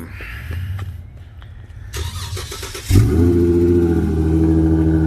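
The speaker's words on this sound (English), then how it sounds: "Let me go ahead and give y'all a cold crank." Dodge Challenger muscle car engine cold-cranked: starter whir for about a second, then the engine catches with a loud bark and settles into a steady, rumbling idle.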